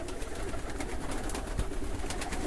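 Fancy pigeons, including country-type birds, coo softly in an aviary amid a busy background of rustling and flock noise, with no voices.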